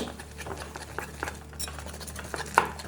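A spoon works through beer batter for flathead in a bowl while beer is poured in bit by bit, producing soft, uneven stirring scrapes and light taps at close range, with one sharper knock near the end.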